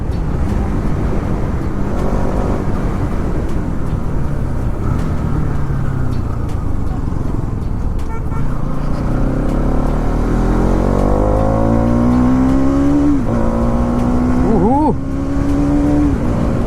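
Motorcycle engine revving hard past 5000 RPM on an empty open road, a loud continuous drone with rising and falling pitch sweeps as the rider accelerates, under steady wind rush throughout.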